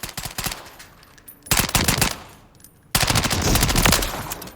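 A Honey Badger rifle in Call of Duty: Modern Warfare III fires in three loud, rapid automatic bursts separated by short pauses, with the last burst the longest and heaviest, and nobody talking.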